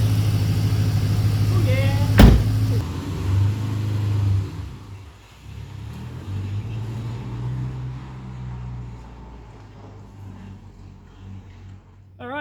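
Holden VY Commodore with an LS1 V8 pulling away: a sharp knock, then a low engine rumble that rises and recedes as the car drives off, fading into quieter background, with a brief exclamation and some talk.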